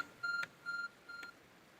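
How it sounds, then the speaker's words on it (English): An arc phone in Pokemon Legends Arceus beeps three times in quick succession, short clean electronic tones with no voice over them. "Your arc phone is beeping."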